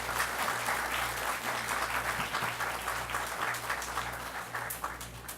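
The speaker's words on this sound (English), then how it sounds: "let us give the Prime Minister a wonderful applause for joining us here at Point Fortin this morning." Audience applause for the Prime Minister at an outdoor housing distribution ceremony in La Fortune, Point Fortin, sustained crowd clapping over a low steady hum, continuous for several seconds.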